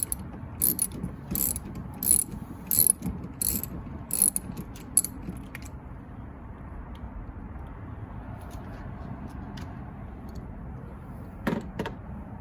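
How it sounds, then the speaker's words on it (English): A 13mm socket on a ratchet wrench removes a wiper arm from the rear wiper motor shaft of a 2003 Chevrolet Suburban 1500, giving a run of quick ratcheting clicks in short bursts, then quieter, with two last clicks near the end. "Now use your 13mm socket to remove the wiper arm from the motor shaft."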